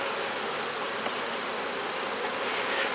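Honeybees in an open hive during an inspection make a dense, steady hum, close and continuous with no pauses, and no voices break in.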